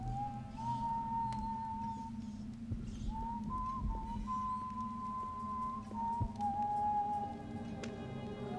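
Guards whistling a song in the video game Dishonored, one steady whistled melody of long held notes with a brief pause, faint against low background hum.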